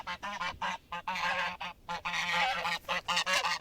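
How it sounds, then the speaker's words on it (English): Domestic geese on a village farm property honk loudly and repeatedly in rapid overlapping calls, a close, continuous noisy chorus with no talking. "We got honked at by their geese,"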